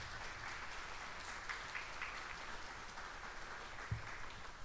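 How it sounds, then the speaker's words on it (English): Quiet, distant applause from a conference audience honoring event sponsors, a soft continuous patter of hands lasting a few seconds, faint and somewhat muffled. "partners, and media partners a round of applause."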